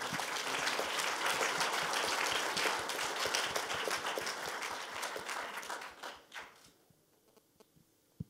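An audience applauds at an engineering inventors' award ceremony during the souvenir photo, with dense clapping that holds for about six seconds, then thins to a few scattered claps and fades.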